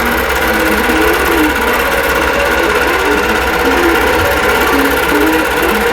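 A sewing machine stitches quilt blocks in a steady, continuous run for the whole stretch, its fast motor hum and needle clatter loud and close with no voices.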